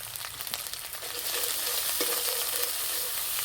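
Spice paste of green chilli paste, cumin and turmeric powder sizzles in a hot pan for a light fish curry, with a steady broad frying hiss and a few small stirring clicks, close and continuous with no talk.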